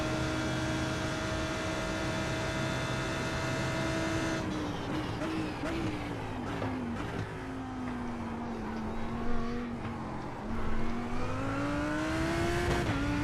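GT3 race car engines at Monza in the iRacing simulator, a high revving drone that shifts pitch as cars accelerate and downshift, with gear changes breaking the tone and other engines layered close by.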